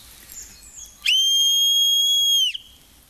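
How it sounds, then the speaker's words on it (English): One shrill, piercing blast from an emergency whistle improvised from trash in the woods, held steady for about a second and a half, then stopping sharply against quiet outdoor background. "blow in here, and we should end up with a whistle that works"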